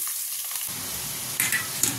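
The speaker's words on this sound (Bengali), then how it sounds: "লাল লাল করে পেঁয়াজটা ভাজা হয়ে গেছে" Chopped onion frying in oil in a pan after a tempering of dried red chillies and chopped garlic, a steady sizzle with a couple of sharper stirring scrapes near the end.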